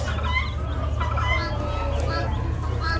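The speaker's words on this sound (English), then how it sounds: "more roosters" Roosters and chickens at an Amish animal auction cluck and call over a low, steady background rumble, with several overlapping bird voices at close to mid range.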